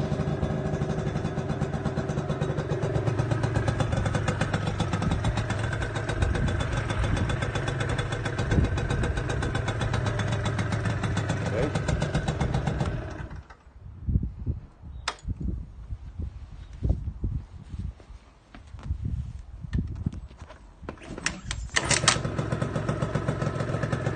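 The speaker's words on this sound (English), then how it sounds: "I'll do a little demonstration of the electric start, right, pulling the back brake" A Gilera Stalker 50cc moped with electric start idles steadily and loudly up close, its engine running evenly before cutting off, followed by scattered knocks and handling clatter.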